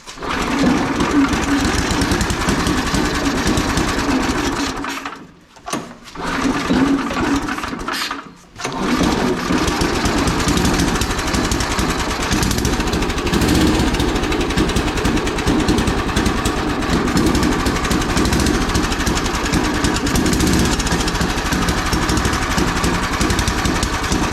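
A small gas engine on a homemade go-kart sputters and then runs loud and close at a steady, buzzing pace, briefly cutting out twice near the start before settling into continuous running.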